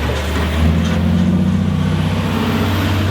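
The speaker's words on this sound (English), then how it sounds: "This garbage truck is going past, it's gonna be very loud." A garbage truck drives past close by, making a loud, continuous low engine rumble with a heavy drone that fills the whole stretch without a break.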